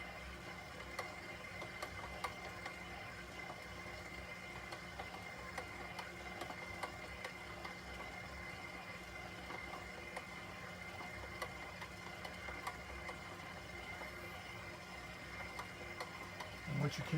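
A mixer kneads yeasted pumpkin bread dough with a steady mechanical drone and faint rhythmic ticking, continuous and even throughout with no voices.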